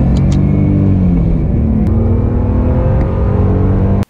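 A BMW E46 330i with a Direnza Clubsport exhaust revs loudly and close, its deep rumbling engine note rising and falling steadily for about four seconds before cutting off abruptly.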